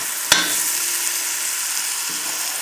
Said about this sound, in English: Raise the flame a little. Now we'll add the shallots.